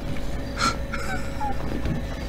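A chicken gives a few short, scattered clucks and squawks at close range over steady background noise, with no talk.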